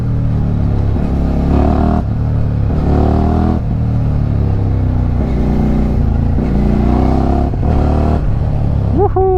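An adventure motorcycle engine hums and revs close by on a rough road, with rattling and clatter from a bumpy ride and changing pitch as the throttle shifts.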